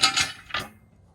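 Six flat top bolts for a Rock Krawler long arm kit on a Jeep JL clink together: two quick metallic jingles followed by a third, close and fairly loud, then fading to quiet.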